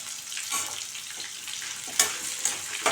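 Small onions (shallots) sautéing in oil for a pirandai chutney, a dense close sizzle with a few sharp spoon scrapes as they are stirred.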